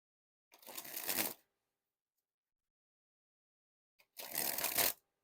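A Theory11 Nomad deck of playing cards being sprung from hand to hand, two brisk fluttering bursts of rapid card clicks with a silent gap between, close and alone.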